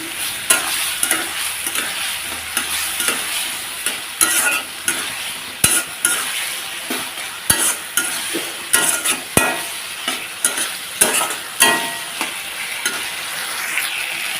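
Lentils and spices sizzle steadily in a pan while a spoon stirs them, close and continuous frying noise broken by regular scraping and tapping strokes, with no talking over it.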